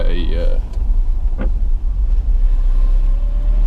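Car driving down into a large basin through redwood and tan oak forest in Big Basin, California, a steady low engine and road rumble running throughout, with faint voices briefly over it.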